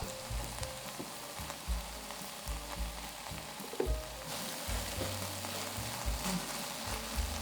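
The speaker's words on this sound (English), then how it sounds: "Spread the cabbage across the griddle and let it cook for a while." Cabbage fries on a hot griddle for monjayaki, giving a steady close sizzle with occasional scraping from stirring and no talk.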